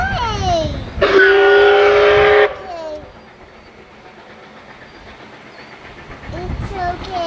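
A CPKC freight train passes at Lucerne, Missouri, with a loud broadband blast lasting about a second and a half, likely the horn, amid rolling rail noise that fades and returns as onlookers chatter nearby.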